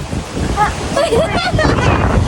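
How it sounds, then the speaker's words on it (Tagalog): Steady strong wind roars and buffets the microphone throughout at Taipei 101, with voices chattering over the gusty rush. "Grabe lakas ang hangin."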